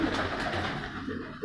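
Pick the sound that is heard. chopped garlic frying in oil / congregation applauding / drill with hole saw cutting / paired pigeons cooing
paired pigeons cooing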